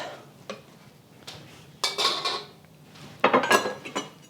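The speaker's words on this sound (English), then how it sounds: "Putting that on my cutting board, and we're just gonna slice that up" A knife slices a thin egg omelette into ribbons on a cutting board, for mee goreng noodles; a few close, sharp taps and scrapes against the board come in separate bursts, with quiet gaps between.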